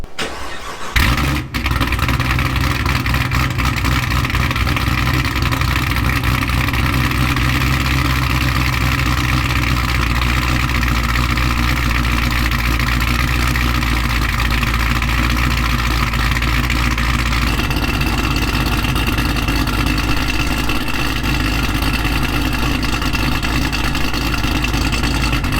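Chevrolet Camaro with Classic exhaust starts up, then settles into a steady deep idle rumble that holds for a long stretch with a slight lift in tone later, loud and close.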